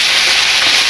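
Food sizzles loudly in a pan while being cooked down for baked ziti, a close, continuous bright hiss with no voices.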